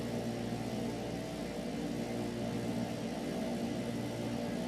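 Aircraft engines of the Famous Flyer 09 in Microsoft Flight Simulator 2020 hum in a steady, even mid-pitched drone, continuous and moderately loud throughout, with no talking.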